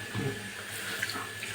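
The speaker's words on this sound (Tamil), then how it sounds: "பெரிய டம்ளர் அளவுக்கு 1 டம்ளர் தண்ணி ஊற்றுறேன்" One large tumbler of water, the water used to grind masala, is poured into a pan while a Tamil-style drumstick thokku is cooked. It makes a short, soft, steady splashing stream.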